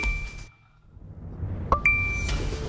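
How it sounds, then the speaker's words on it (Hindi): Two bright electronic phone notification chimes ring out, one at the start and another near the end, clear and close with a quiet pause between them. "उसके बाद दूसरा नोटिफिकेशन, पासवर्ड चेंज सक्सेसफुली।"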